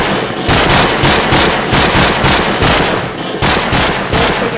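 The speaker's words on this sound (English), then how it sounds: "AK-47, and you can actually just shoot like this" Rapid automatic AK-47 gunfire in a Minecraft server game, a dense loud unbroken burst of fast repeated shots, close and continuous.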